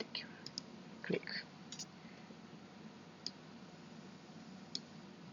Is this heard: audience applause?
no